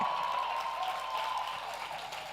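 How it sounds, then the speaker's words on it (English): Audience clapping at an awards gala, a dense steady wash of applause filling the room with no talking over it. "Don't be scared to clap for him."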